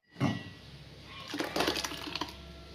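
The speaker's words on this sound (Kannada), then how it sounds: "ಸೊ ಮಿಕ್ಕಿರುವಂತಹ ಟೊಮೆಟೊನ ಇನ್ನೊಂದು ಸಲ ಹಾಕ್ಕೊಂಡು ಗ್ರೈಂಡ್ ಮಾಡ್ಕೊತಿದ್ದೀನಿ" Mixer grinder grinding leftover tomatoes for pickle starts with a short thump, then a whirring motor rises with a rough, churning rattle, close and moderately loud, with no talk.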